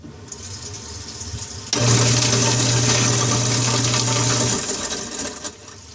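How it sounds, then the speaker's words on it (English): Water gushes steadily from a kitchen faucet into a sink, joined for a few seconds by the low mechanical hum of a garbage disposal, loud and close. "I'm going to turn the sink water on."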